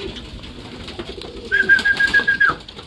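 Racing pigeons at a pigeon race loft give soft cooing and bird calls, with a steadier, brighter call rising for about a second near the end. Close and moderately loud over a low ambient background, with no talking.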